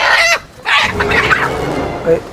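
A chicken clucks and squawks close by as it is handed over, its agitated calls broken by a short pause, with a bit of human voice mixed in.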